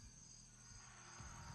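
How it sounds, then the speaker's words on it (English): Crickets chirping in a jungle ambiance played through speakers during a Dead Space Remake livestream, a faint steady insect trill filling the background with no voices. "you guys can hear the crickets and stuff going off"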